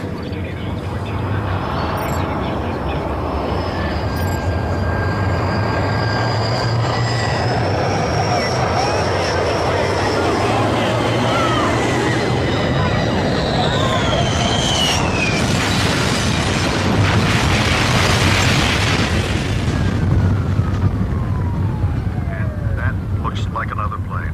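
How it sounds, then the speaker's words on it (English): A jet airliner, shown in a dramatized ABC depiction of the 9/11 attacks, roars in on approach and crashes into the World Trade Center, a loud sustained engine rush building to a dense crash burst near the end. "We've just witnessed a second plane crash."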